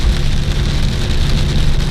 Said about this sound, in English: But now it's hailing like crazy, and or it was just hailing. It looks like just rain now.